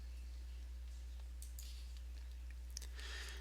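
A computer mouse clicks a button a few times over a faint low hum, the clicks quiet, brief and spaced apart.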